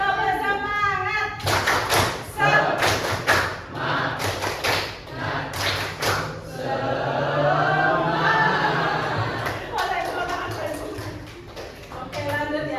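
Classroom students doing the tepuk semangat chant in Indonesia: bursts of group clapping in rhythmic patterns with loud thumps, mixed with shouted voices chanting along.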